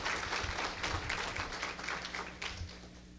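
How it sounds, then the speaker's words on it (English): Students applaud at an early college graduation breakfast in a smaller room, a modest group clapping at a fairly faint level with a low hum underneath, the applause thinning toward the end. "if we could have an applause from the students"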